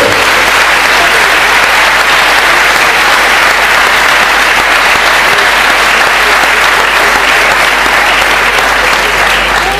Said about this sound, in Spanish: A todos y a todas, por favor, un sincero aplauso de agradecimiento por su presencia y apoyo al proyecto.